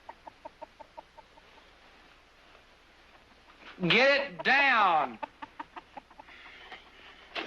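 A chicken clucks in sharp, evenly spaced bursts near the start, then gives two loud, drawn-out squawks in the middle before returning to quick clucks, with a brief spoken line in between.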